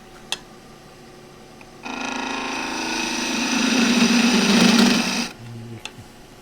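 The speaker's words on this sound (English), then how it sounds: "And this actually needs to go to the grinder." A bench grinder spins up and grinds a ¾-inch woodturning scraper blade, a steady loud whirring rasp lasting several seconds that builds slightly in intensity before the blade lifts away and the motor hum lingers briefly.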